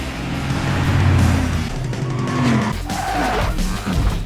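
A stolen car driven recklessly in a movie chase, with tires skidding and squealing over a loud, sustained engine roar that swells and fades, close and continuous with no speech.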